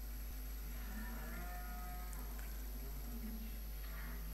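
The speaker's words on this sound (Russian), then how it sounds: "Так, ну, судя по всему, да, тут коровы." Cows low in a cowshed in the farming game Farming Simulator 2015, a few soft drawn-out moos under a constant hum and faint background voice.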